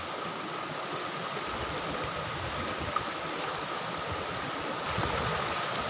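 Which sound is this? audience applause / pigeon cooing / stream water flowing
stream water flowing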